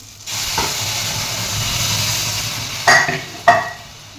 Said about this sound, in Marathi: माझं आता शेवया भाजून झालेले त्यामध्ये आता दूध टाकते